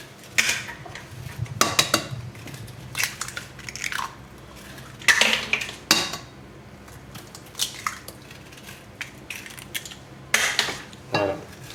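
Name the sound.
mixing eggs into sugar, flour and vanilla sugar in a bowl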